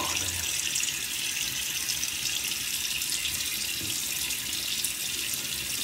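Water runs steadily from a bathroom tap into a sink, a continuous close hiss and splash while a man prepares to wet his face for a razor shave.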